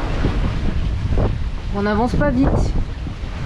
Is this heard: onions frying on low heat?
no